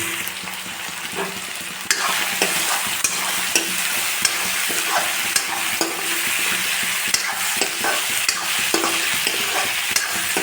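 Chicken pieces and potato chunks fry with onions in a pan, a steady dense sizzle with repeated stirring scrapes and clinks of a utensil, close and continuous with no talking.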